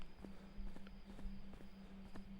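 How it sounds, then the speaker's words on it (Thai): Running footsteps of a player character in the horror video game Siren Head Awakening, a steady, fairly quick series of soft thuds on a low ambient game background, quiet and even. "ผมลองวิ่งเรื่อย ๆนะกัน"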